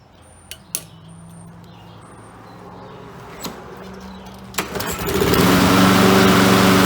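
A flooded carburetted small engine is pulled over with a few sharp knocks and clanks. It then fires and settles into a loud, steady, buzzing lawn-mower-like run, close to the mic.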